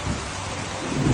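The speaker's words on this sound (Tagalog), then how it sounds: "May kasamang yelo ang malakas na ulan kahapon." Heavy rain with hail in Bacoor, Cavite, a dense, steady roar of downpour close by with a rumbling low undertone and no voices.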